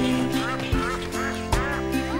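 A mother duck quacks several times in a French children's song, the cartoon quacks landing over a steady musical backing with even rhythm.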